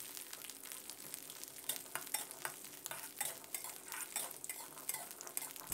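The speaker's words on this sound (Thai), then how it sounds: "ใส่น้ำมันพืชลงไปเล็กน้อยนะครับและตามด้วยหอมแดง50กรัมกระเทียมจีน50กรัมแล้วก็ให้เราคั่ว" Shallots, red onion and Chinese garlic sizzle and fry in a little vegetable oil in a pan, with dried chilies to follow, a steady close crackle with occasional stirring scrapes throughout, no talking.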